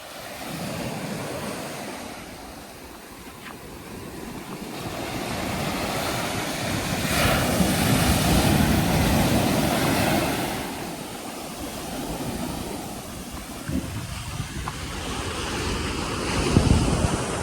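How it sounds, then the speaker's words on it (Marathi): Ocean surf rolls steadily onto a beach in Goa, a continuous loud wash of breaking waves with rising and falling swells, mixed with gusty wind buffeting the microphone and no talking. "या बीचवर आम्ही आलेलो आहेत."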